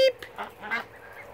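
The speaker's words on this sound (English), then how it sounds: "Here's the ducks." Ducks quack in a few short, scattered calls at moderate distance near a swimming pool, with a brief tonal blip at the start and quiet background.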